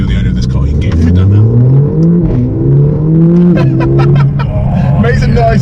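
A Mercedes A45 AMG with a 2-litre engine accelerating hard, loud rising revs climbing through gear changes close by inside the car, with people talking and laughing over it.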